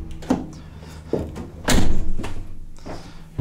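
Rear doors of a 2021 Ram Promaster 3500 van shut with several solid thuds, the heaviest slam in the middle, with no talking.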